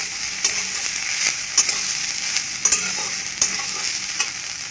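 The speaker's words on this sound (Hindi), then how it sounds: "ताकि इसे एक मिनट ही भूनना चाहिए" Soya chunks fry in a pan with turmeric and salt, giving a steady close sizzle broken by repeated scraping clicks of a spoon stirring, with no talking.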